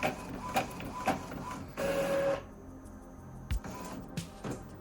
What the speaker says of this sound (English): And that's it printing.